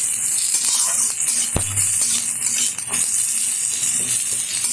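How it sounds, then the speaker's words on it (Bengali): Chopped onion, ginger and garlic frying lightly in ghee, with a continuous bright sizzle, a few stirring clinks and one sharp knock partway through. "এবার এটা ঘিয়ের মধ্যে ঢেলে দিলাম। খুব বেশি ভাজবো না, হালকাভাবে ভেজে নেব।"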